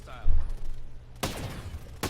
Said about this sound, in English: I was trying to use this new gun from the Terminator event, and I missed pretty much the majority of my shots with this gun